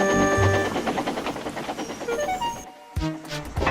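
Cartoon steam engine chugging along the track, a rapid rhythmic puffing with a whistle-like tone, close and continuous before a brief break.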